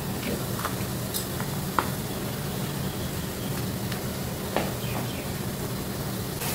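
Condensed milk being stirred into a mango and coconut laddu mixture in a pan, giving a soft steady sizzle with a few faint scraping clicks of the spoon, no talk.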